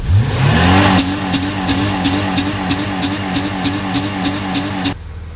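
A Holden VS Commodore budget-build race car engine revs up strongly, then settles into a steady, smooth idle with rhythmic pulsing blips of throttle before cutting off near the end; loud and close, with no talking.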